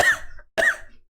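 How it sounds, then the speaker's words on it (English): Two loud, raspy coughs close to the microphone, separated by a short gap, each trailing off quickly. "Did that coughing fit add to the line read?"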